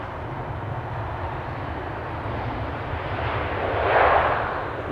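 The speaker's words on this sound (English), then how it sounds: "Delta Airlines Flight 136 arriving from Detroit" A Delta Airlines jet arriving from Detroit lands at Amsterdam Schiphol Airport, a broad, loud engine roar that holds steady and swells toward the end as the plane passes nearby.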